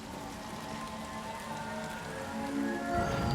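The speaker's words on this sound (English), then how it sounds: "Yeah, why am I hearing rain?" Continuous rainfall in the video game The Elder Scrolls IV: Oblivion Remastered, a close, steady hiss of drops that swells slightly louder near the end.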